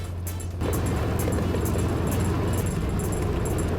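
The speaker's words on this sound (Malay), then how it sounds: "Mendengar bunyi enjin mengaum membuatkan jantung kami berdegup kencang." A loud engine roars steadily and close after a short quieter opening, its low rumble sustained throughout with no talking.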